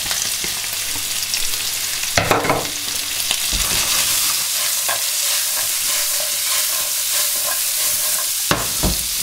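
Onions fry in a pan together with fried potatoes for German Bratkartoffeln. A loud, continuous sizzle runs throughout, with sharp scraping clatters of the spatula at a few points and no talking.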